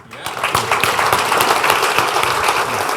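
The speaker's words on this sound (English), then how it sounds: "Let's give him a round of applause." Audience applause at a panel discussion on regenerative finance, a dense, steady wash of clapping that starts almost at once and holds loud and even for about three seconds.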